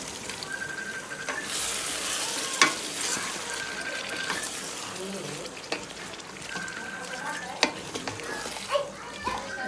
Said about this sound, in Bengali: টমেটোটা ছাড়লাম